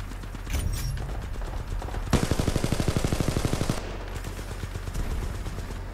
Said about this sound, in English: Did he just shoot me with that? Wow. That gun annihilates.